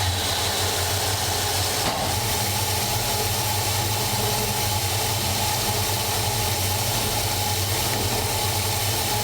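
An engine idles steadily after a one-turn carburetor adjustment, a continuous, even rumble close by with no talk, a brief knock near the start.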